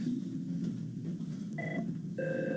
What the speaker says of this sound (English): I think our phone is ringing, Dick.